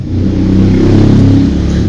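A motor vehicle, probably a motorcycle, rumbles steadily nearby with a low engine drone that holds through the moment without any talk.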